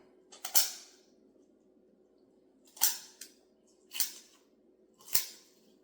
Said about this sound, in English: So now I'm gonna go on the other side and just start cutting right alongside of that backbone.